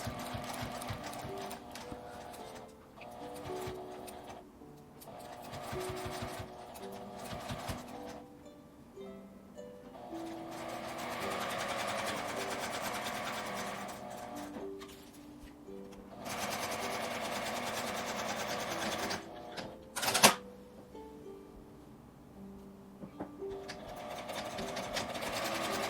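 A domestic sewing machine stitches a seam with a 1 cm allowance through Seria pressed quilted fabric for a soft pouch, running in close, loud bursts of rapid stitching separated by brief pauses and a sharp click near the end.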